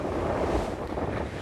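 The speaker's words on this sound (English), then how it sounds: "Good shot there of the boat, just starting to push through the water." A racing yacht pushes through the water on a windward beat, a loud, continuous rush of wash and wind buffeting, with no voices.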